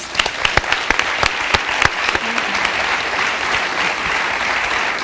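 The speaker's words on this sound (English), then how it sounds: "to give our panelists another round of applause" Audience at a spring colloquium applauding panelists, a few sharp distinct claps at first that swell into a steady, full round of clapping from a large room.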